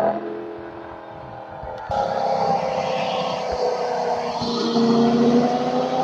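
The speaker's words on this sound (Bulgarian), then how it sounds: "И като подам газ, чувам как смучи просто от филтъра." A stock BMW M3 E46 coupe accelerates from the driver's seat, its engine note jumping abruptly louder as the throttle opens, then holding a strong, steady intake roar with a rising tone toward the end.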